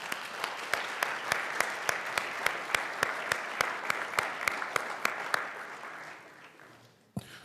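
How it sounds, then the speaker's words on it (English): An audience at a school board meeting applauds parents and siblings; steady, distinct claps in an even rhythm with one prominent clapper, fairly quiet, tapering off near the end. "I do want to give a special round of applause for all of our parents and the siblings that came out tonight."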